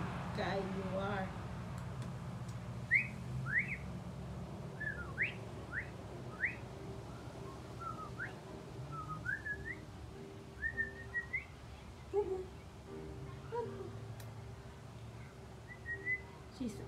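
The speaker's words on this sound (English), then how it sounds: "he is answering to that whistle, Lava." A person whistles a string of short rising and falling notes, spaced out and then quickening into brief runs. Another whistle seems to answer. Low background hum and talk sit underneath.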